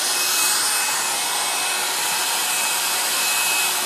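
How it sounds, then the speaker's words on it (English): A hair dryer blows steadily at close range while drying hair, a continuous loud broadband whoosh with no pauses and no talk over it. "I'm just honestly all trying to dry my hair and that's about it."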